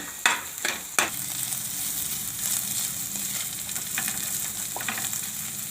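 A rava mixture with peas sautéing in oil sizzles steadily and close. A few sharp clanks of stirring come at the start, with softer scrapes later and no talking.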